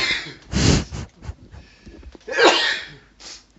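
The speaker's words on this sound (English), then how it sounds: "Oh my god, I'm going to sneeze." Two strong, close sneezes burst out about two seconds apart, with snorting breaths around them.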